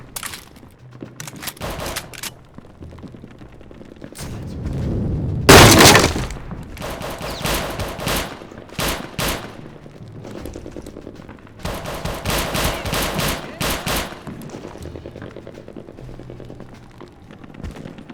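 Gunfire from a gun in RealRTCW, bursts of rapid automatic shots in several clusters with one loud blast in the middle, close and punchy, with no talking.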